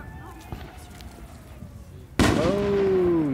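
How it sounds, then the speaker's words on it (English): Fourth of July firework blasting off with a sudden loud bang followed by a sustained crackling, whistling burst, after a quieter stretch of background noise and faint distant pops. "My crazy kid blowing shit off, fireworks."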